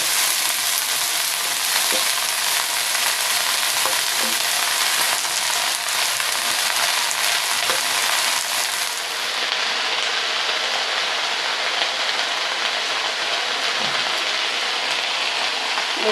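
Bottle gourd greens frying in a hot pan give off a loud, steady sizzle like heavy rain, with occasional stirring scrapes and no talking.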